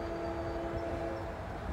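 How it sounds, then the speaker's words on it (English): A train passes on a temporary shoo-fly railroad track, heard as a steady, fairly faint rumble with a sustained tonal hum from the locomotive, with no one talking. "This might be the last train around the shoo-fly."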